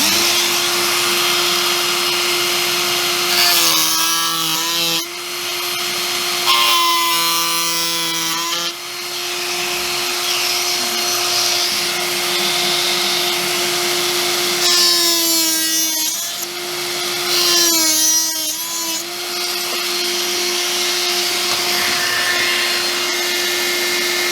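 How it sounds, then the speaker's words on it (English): A power tool cuts model railway track in place on a diorama, a steady loud whine running throughout, with several brief bursts of higher grinding where the blade bites into the rail. "So I'm going to quickly just cut these pieces of track and trim them off."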